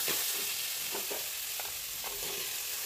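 Onions sauté in a pan for a village-style clay-pot fish curry, a dense continuous sizzle broken by a few scraping stirs of a spoon, close and fairly loud.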